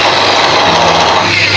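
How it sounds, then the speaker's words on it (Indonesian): An angle grinder cuts a hole in a metal sliding-gate frame for a lock latch, giving a loud, close, continuous high whine with a harsh grinding hiss throughout the short burst. "Jadi untuk pengaitnya kita lubangin dulu dengan cara di gerinda."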